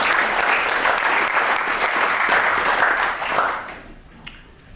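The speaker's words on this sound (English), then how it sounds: "Okay, round of applause for both of them." Lecture audience applauding nominated students, a dense wash of many hands clapping at steady volume that thins and fades out toward the end, with a few last scattered claps.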